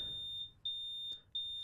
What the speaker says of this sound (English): It was at that moment the alarm started.